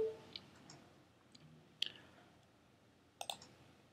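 Computer mouse clicks, a few sharp isolated taps spread unevenly apart, close and fairly quiet against near silence.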